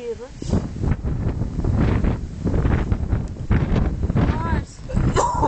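Strong gusting wind on a mountain hike at Pico de Loro, heavy buffeting rumble against the microphone that rises and falls throughout, with people talking through it.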